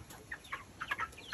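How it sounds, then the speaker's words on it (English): Chicken clucking outdoors: a string of soft, quick, high clucks in an uneven rhythm, fairly faint over light background noise, with no talk. "It's a chicken."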